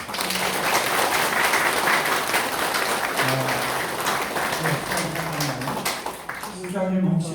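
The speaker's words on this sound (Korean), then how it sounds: "격려의 박수를 부탁드립니다" Warm applause from an audience at a mayoral lecture and meeting with a retired civil servants' association in Incheon, continuous and fairly loud, with a voice beginning to speak as it fades near the end.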